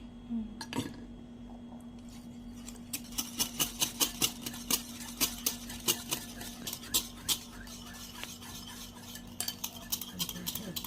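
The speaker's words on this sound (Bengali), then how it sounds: "এদিকে টক দুটো ভালো করে ফেটিয়ে নে" Rapid, rhythmic clinking of a whisk or spoon beating sour yogurt in a bowl for buttermilk, steady strokes repeating close up with a faint hum underneath.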